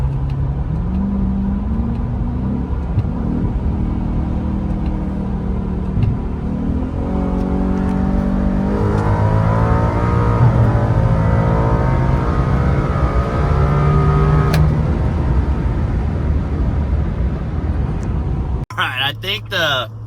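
A Ford Raptor R's supercharged Predator V8 running on E85 revs hard, pitch climbing steadily through the gears to a high-rpm peak before cutting off abruptly, loud and close inside the cabin.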